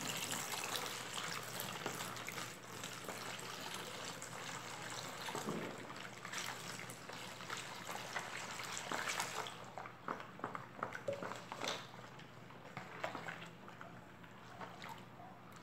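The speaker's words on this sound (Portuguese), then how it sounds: "E agora eu vou colocar mais meio litro d'água aqui" Half a litre of water pours into a homemade blue fabric softener mixture made with vinegar and glycerine, a steady close trickle and splash running throughout and turning choppier and more uneven near the end.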